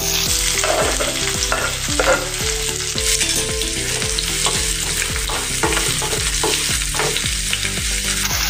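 Finely chopped onions fry with whole spices in a pan, a loud continuous sizzle broken by regular scraping stirs of the spoon, no voices.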